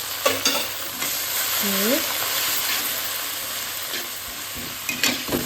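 Boiled instant noodles being stir-fried with vegetables in oil in a home kitchen: a steady, moderate sizzle with scraping stirs, clattering utensil knocks and a brief spoken word.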